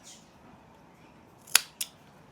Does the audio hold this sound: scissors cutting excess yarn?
yes